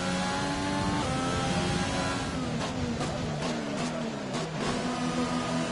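Engine of an F1 car in the F1 2020 video game, entering the pits at the Italy race, a steady high whine holding with shifting pitch, close and loud, with a few brief bursts near the end.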